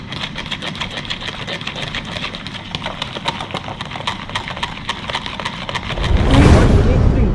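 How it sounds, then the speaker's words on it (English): A dalgona coffee mixture with three tablespoons of heavy cream gets whisked, producing a rapid, steady rhythmic clatter that runs throughout and is loud and close, swelling into a denser whir near the end. "And time to whisk it."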